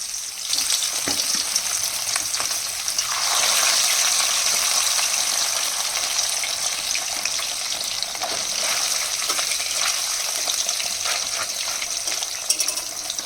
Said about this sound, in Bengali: সেই কড়াইটার মধ্যে আমি তেল দিয়ে নিয়েছি এবার মাছগুলো ভেজে নেব